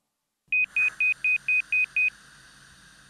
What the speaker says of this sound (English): Blow into the mouthpiece for 3 to 4 seconds until the beep sound.